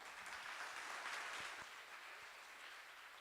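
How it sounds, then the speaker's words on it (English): Audience applause for panelists at a youth lab discussion event, a faint, steady wash of clapping from a crowd that eases off slightly, with no talk. "Let us just give one last applause to the panelists."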